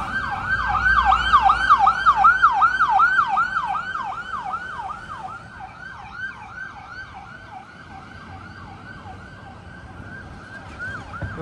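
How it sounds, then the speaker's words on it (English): A fire engine's wailing siren sweeps past on a road by Ripon Farm Services, loud and close at first, then steadily fading as it moves away, with no talk over it. "Another fire engine now."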